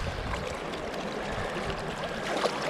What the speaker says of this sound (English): especially when you got smooth water flowing over like this